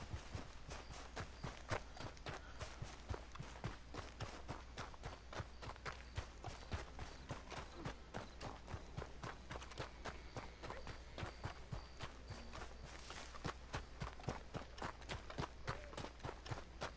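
Rapid hoofbeats clatter steadily throughout in Red Dead Redemption 2, a galloping horse's clip-clop over a constant low background hum, fairly loud and continuous.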